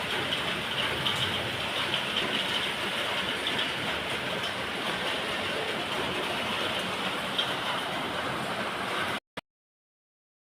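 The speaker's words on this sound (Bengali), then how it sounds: "দেখো জোরেই শুরু হয়ে গেছে বৃষ্টি।" Heavy rain pours down in the evening, a loud, dense, unbroken roar of falling water close by for about nine seconds before cutting off abruptly.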